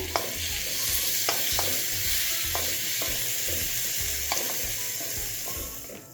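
Steady sizzling of tomato and onion frying in a pan, punctuated by light scraping taps of a spoon stirring, close and even.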